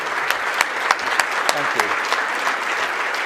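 A lecture audience gives a speaker sustained applause, a dense and steady clatter of clapping with a few sharper claps. A voice briefly offers thanks over it.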